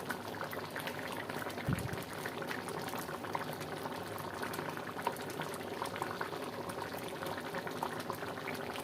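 Khichuri boiling steadily in a cooking pot, a continuous close bubbling and simmering that runs throughout with one brief louder bump near the start and no talk.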